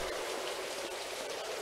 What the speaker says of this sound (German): Regen ist immer schlecht.